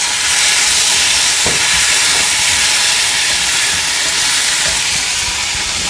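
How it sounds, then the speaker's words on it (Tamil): Dry red chillies, spices and tomato sauté in a hot pan, giving a loud, steady sizzling hiss close by, with a few faint stirring clicks and no talking. "எல்லாத்தையும் சேர்த்து பச்சை வாசனை போகிற வரைக்கும் நல்லா வதக்கிடலாம்."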